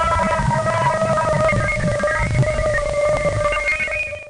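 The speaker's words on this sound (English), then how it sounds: "a moon of Jupiter, and recorded some audio of the moon" An eerie, warbling electronic drone from Jupiter's moon Ganymede, recorded by a space probe and pitched down to audible range: wavering whistle-like tones over a gritty, crackling rumble, steady throughout, then fading out at the end.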